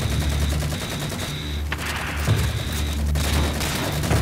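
Rapid gunfire from a Halo game scene fills the mix, dense bursts of shots and booms running continuously and loud with layered impacts throughout.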